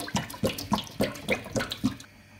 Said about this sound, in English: Here is the pot I will be using to fry the stew. I will be adding vegetable oil.